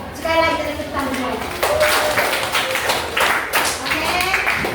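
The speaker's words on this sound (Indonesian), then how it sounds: "Sekali lagi tepuk tangan." An audience claps after a poem reading, a dense burst of applause continuing throughout, with voices and children talking over it.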